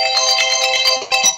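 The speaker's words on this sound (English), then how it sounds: "I'll turn that off. That's my phone, which never stops, right?" Mobile phone ringtone chiming loudly and close, a repeating electronic melodic pattern of bright tones that plays continuously, then briefly falters near the end.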